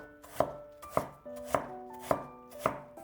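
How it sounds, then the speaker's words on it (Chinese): A knife chops peeled, cored apple slices into thin strips on a board, five sharp, evenly spaced cuts landing about every half second, close and clear with no talking. "再改刀切成细丝，尽量切细一些"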